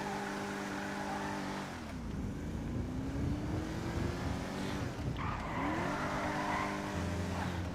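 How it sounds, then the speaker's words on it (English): A Rolls Royce convertible drives in GTA 5, its engine note climbing and dropping through gear changes, with tire squeal partway through, steady and close with no talk. "Driving a Rolls Royce here, man."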